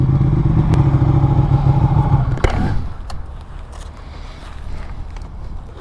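A Ducati Panigale motorcycle being ridden, its loud engine droning steadily for a couple of seconds before a thump and a drop to a lower, rougher rumble with wind noise.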